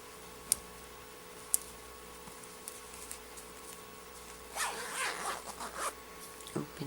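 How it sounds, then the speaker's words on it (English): A zipper being opened on baby pajamas printed with a giraffe and a turtle, a short run of soft ragged zipping near the end, preceded by a couple of faint ticks in a quiet room. "Open the zipper."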